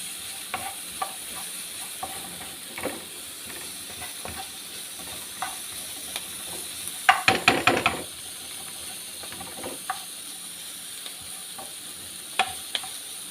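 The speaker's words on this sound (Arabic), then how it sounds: "هنزل بحوالي 4 فصوص توم، بس انا عشان توم انا فرماه ومخزناه، هديهم تشويحه كده حلوه" Minced garlic sautés in a pan with a soft, steady sizzle, punctuated by scattered stirring clicks and a brief burst of louder scraping partway through; no one talks.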